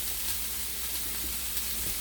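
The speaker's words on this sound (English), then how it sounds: "Not too much longer on the broccoli. Like I said, you don't have to saute it for too long." Broccoli and minced garlic sautéing in a pan give a steady, close sizzle of frying with a continuous bright hiss and no talk.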